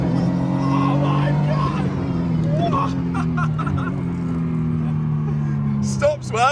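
A Lamborghini accelerates hard and then brakes sharply, its engine drone rising and falling steadily from inside the cabin while people exclaim and talk over it.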